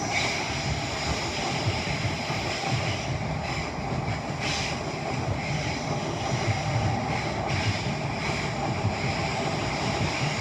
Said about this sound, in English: London Northwestern Railway service to Milton Keynes Central